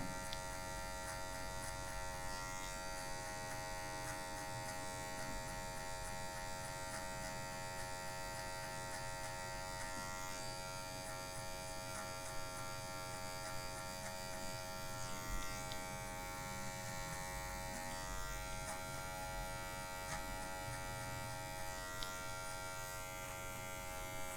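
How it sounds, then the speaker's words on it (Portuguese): An electric hair clipper set very low runs steadily while cutting a fade, giving a constant close, even buzz that continues without pause for over twenty seconds, with no speech. "Vou jogar agora na zero baixa e usar só a pontinha da máquina"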